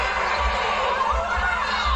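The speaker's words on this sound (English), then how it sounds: "San Diego, crowd on their feet" A San Diego volleyball crowd on its feet at a match fills the arena with a loud, steady roar of mixed cheering and shouting voices that stays constant throughout.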